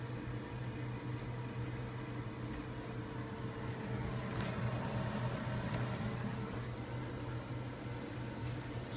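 Beer-battered food frying in a deep fryer, a steady dense hiss and sizzle of hot oil with a constant low hum underneath, continuous and even at moderate level.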